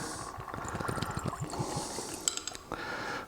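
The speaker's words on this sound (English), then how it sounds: "We'll pour some into our Glencairn." Blanton's Gold bourbon poured from the bottle into a Glencairn glass, a close gurgling stream with glugs that rises in pitch as the glass fills, then a light clink at the end.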